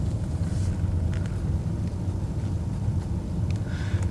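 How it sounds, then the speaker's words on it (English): A car being driven on a road, low engine and road rumble with a steady drone and faint wind noise, continuous and moderately loud with no talking. "Well, we are driving, as you can see."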